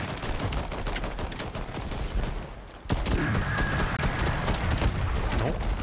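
Gunfire from the video game Shatterline rattles in continuous bursts of rapid shots, with a sharp, louder blast midway and sustained firing afterward.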